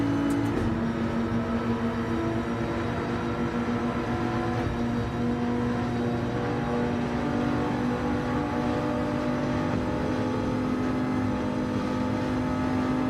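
Race car engine in the Gran Turismo 7 video game, a steady sustained drone with a strong low hum and harmonics, holding near and loud throughout without speech.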